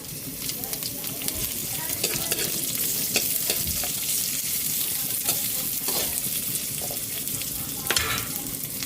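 Onion sizzling and frying in a pan alongside garlic, a steady crackling hiss with stirring scrapes throughout, close and moderately loud, with occasional faint talk in the background.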